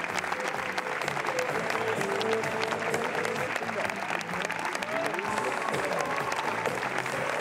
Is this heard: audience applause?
yes